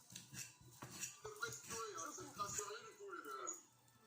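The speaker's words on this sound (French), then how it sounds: "Donc là il écrase les bananes, voilà. Une fourchette." A fork mashes bananas in a bowl for a banana cake, giving soft clinks and squishy scrapes against the dish while people talk over it throughout.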